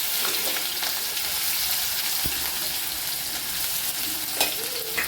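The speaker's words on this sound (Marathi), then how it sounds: "तर इथे बघू शकता कांद्याला छान परतून घ्यायचे." Chopped onion sautéing in a pan with mustard seeds and cumin, a continuous close sizzle and hiss with occasional light stirring taps, no talking.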